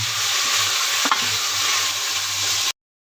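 Whole spices being stir-fried in a pan for a spiced stew, a loud, close, steady sizzle with one quick scrape, then stopping abruptly into silence.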